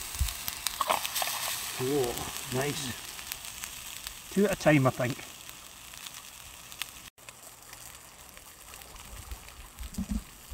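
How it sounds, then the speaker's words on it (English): Spam fritters sizzle and spit in a small titanium camping pan by a river, a steady crackling frying noise with sharp bursts of spluttering, while someone speaks briefly nearby. "Those fritters are sizzling away nicely"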